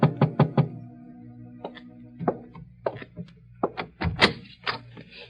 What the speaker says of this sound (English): At 7:45, there was a knock on my door.